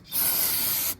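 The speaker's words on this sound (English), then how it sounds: "just spray some brake cleaner on it, and you're all golden" Brake cleaner is sprayed onto the passenger front hub of a 2007 Ford F-250 6.0, making a single close, loud aerosol hiss that lasts just under a second and stops abruptly.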